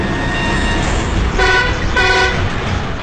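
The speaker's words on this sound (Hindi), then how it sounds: "सड़क पर हॉर्न बजाते हुए चलती एक बस" Two short honks of a bus horn over rumbling road traffic, the blasts close together and fairly loud.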